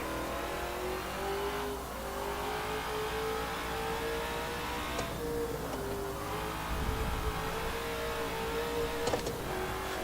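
A race car engine in the Forza 7 video game at the Bathurst circuit hums at a steady mid pitch, rising and falling gently through corners, with occasional brief ticks and clunks over a quiet background.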